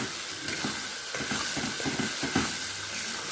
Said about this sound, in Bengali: এখন মশলাগুলোকে মিনিট 10 ভালো করে কষিয়ে নেব।